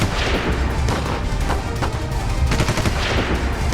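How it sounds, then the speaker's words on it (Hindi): Dense, rapid bursts of gunfire, loud and continuous, with cracking shots overlapping into a steady barrage. "ताज में दाखिल हुए आतंकियों ने अंधाधुंध गोलियां चलानी शुरू कर दी"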